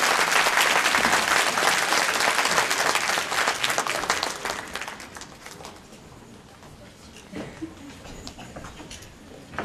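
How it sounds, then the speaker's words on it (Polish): An audience at a folk dance performance gives loud, dense applause for the choreographer, steady at first and gradually thinning out over the last few seconds. "Wielkie brawa jeszcze raz."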